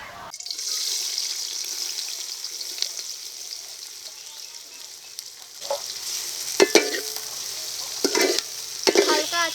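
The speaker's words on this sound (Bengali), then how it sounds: "এই পেঁয়াজটাকে তেলে ভেজে বেরেস্তা করে নেবো" A plate of thinly sliced onions frying in mustard oil for biryani: a bright, constant hiss of hot oil up close, broken by sharp stirring clatters and splutters toward the end.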